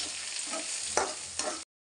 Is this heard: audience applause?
no